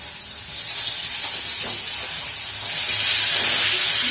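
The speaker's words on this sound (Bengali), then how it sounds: "মাছটা ভাজতে গেলে এরকম" Fish fries in hot oil in a pan, a loud continuous hissing sizzle that swells louder toward the end.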